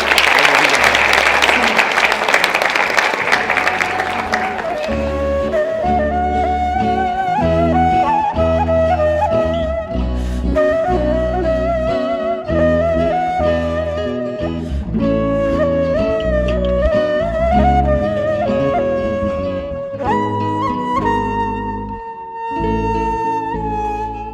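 Audience applause welcoming teacher Ali Çavaz to the stage: a burst of clapping opens briefly, then music with steady beats and melody takes over for the rest.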